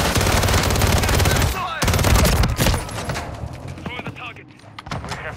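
Rapid automatic gunfire from a Call of Duty MW3 multiplayer match, dense bursts of shots loud and close for the first few seconds, then thinning into scattered shots and fainter game noise.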